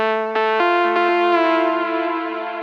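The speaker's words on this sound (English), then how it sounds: "And we have this soft lead here." A soft, sustained synth lead from Spire in a melodic techno track, heavily processed with EQ, OTT and Soothe, plays alone: rich harmonic notes retriggered in a gentle rhythm with chorus-like shimmer and a slow decaying tail.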